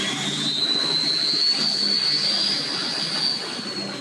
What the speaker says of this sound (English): Jet ski out.